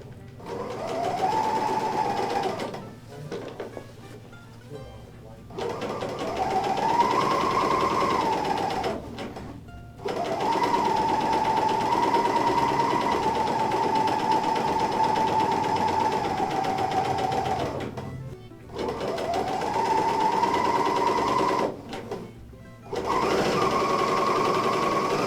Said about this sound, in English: we're just going to barely serge this piece off here